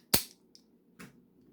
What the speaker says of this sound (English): that deploys Thundercracker's Thunder Cannon